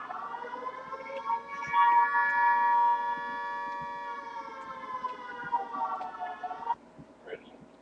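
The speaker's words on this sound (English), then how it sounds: "Air raid sirens." A wailing air raid siren drones steadily in the distance, its pitch holding then sliding down near the end, with faint background noise.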